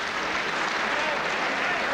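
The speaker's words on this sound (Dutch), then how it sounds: "Applaus op de tribune." Applause rises from the stands at a Benelux title boxing match between John Held and Franco Wanyama, a dense, steady wash of crowd clapping and noise at the end of the first round, with a voice faintly in it.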